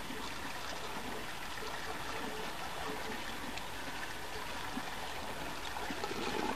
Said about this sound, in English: Now when I pour water in here, it's going to fill the barrel.